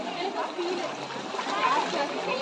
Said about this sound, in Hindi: ये अब हम उतरने वाले हैं पानी में